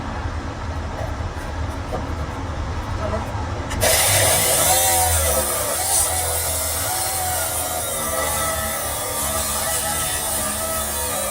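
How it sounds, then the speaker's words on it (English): A 9-inch cutoff saw starts partway through and cuts through a strap on a loaded trailer, giving a loud steady grinding whine over a rumbling background. "That 9-inch cutoff saw is the real deal."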